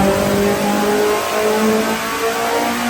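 Car fitted with a K24 engine revving hard while strapped to a dyno, a loud, steady engine roar with rising tones that holds at full volume throughout, no voices.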